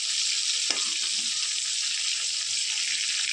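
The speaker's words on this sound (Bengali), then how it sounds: "পটল ভাজা হচ্ছে এই দেখো" Tender pointed gourd (potol) frying in oil in a pan produces a continuous close, bright sizzle and hiss, steady throughout with a single faint knock near the start.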